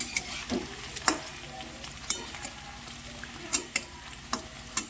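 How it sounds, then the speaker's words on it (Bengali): Paneer pieces frying in mustard oil, a steady soft sizzle broken by sharp clicks and scrapes of stirring that repeat every second or so, close and moderately loud. "আমি এই পনিরকে সর্ষের তেলে ভেজে নিচ্ছি ভালো করে"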